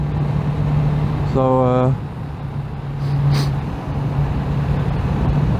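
A 1985 Kawasaki GPZ600R motorcycle being ridden, its engine giving a steady low hum throughout, with a brief rising rev near the start and wind noise; a voice speaks briefly over it.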